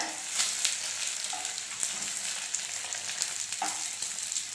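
A wheat flour and egg snack frying in oil in a pan, a close, continuous crackling sizzle with small pops and a couple of faint utensil touches.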